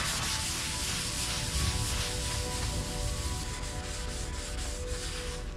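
A cloth rubs linseed oil off a wooden board in steady, close, continuous wiping strokes, a dense brushy scrubbing that carries on without pause and with no talking.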